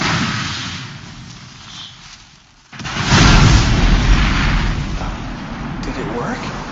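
A fire magic spell in an anime fight bursts into a loud roaring explosion after a brief hush, then rumbles and crackles on with heavy low booming and spraying debris.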